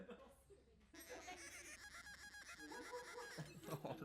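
A voice imitates a duck with a run of nasal, honking quacks over a busy background of other voices and noise.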